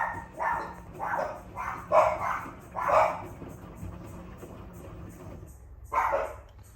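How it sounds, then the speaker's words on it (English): Several dogs bark in short bursts near an LG Intellowasher washer-dryer, with about five sharp, fairly loud barks in quick succession, a pause, then one more bark. "the dogs are very reactive today"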